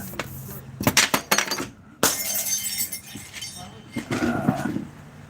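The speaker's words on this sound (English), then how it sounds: "Light bulb." A light bulb breaks indoors during a Halloween livestream, giving a sharp glassy crash followed by a scatter of tinkling fragments, close and fairly loud, with people talking around it.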